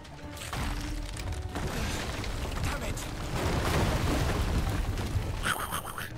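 A fire shot explodes in Final Fantasy XVI with a loud, sustained roaring blast, followed by a bright crackling burst near the end.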